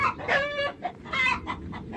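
Chickens clucking in short, loud bursts from inside a shut enclosure at a country house, a few overlapping calls in quick succession with brief pauses between them.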